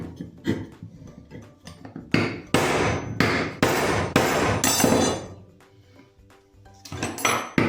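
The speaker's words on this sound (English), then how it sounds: "to insert the new bushing into the wrist pin end of the connecting rod" Metal-on-metal hammer blows drive a new bushing into the wrist pin end of a connecting rod on a Fuller & Johnson pump engine, a run of loud, ringing strikes, close and sharp, with a short quieter pause.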